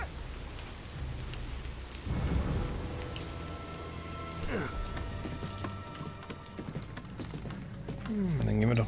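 Steady rain falls in the video game Valiant Hearts, a soft continuous wash under spoken voices, with occasional hoof-like clops and a low rumble.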